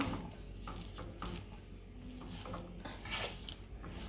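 Cheese kottu is tossed and mixed in a pan, with a steady run of soft metallic clinks and scrapes under a busy background.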